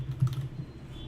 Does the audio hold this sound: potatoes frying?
no